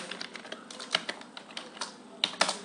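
A computer keyboard is typed on in quick, irregular bursts of clicky keystrokes, close and fairly quiet, with a couple of sharper taps near the end.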